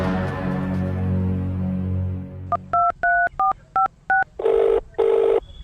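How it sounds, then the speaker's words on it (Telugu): Six short telephone dialing tones beep one after another in a quick series, followed by two longer ringing bursts, preceded by a brief musical passage. "ఆ నంబర్కి తొందరగా ఫోన్ చేయరా"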